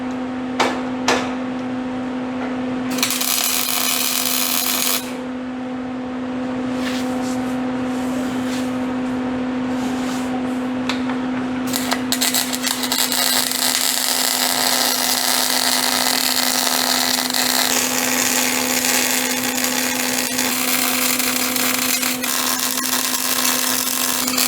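A high-pitched whining drill runs almost continuously at speed, with a steady tonal hum and occasional clicks and tapping; no talking.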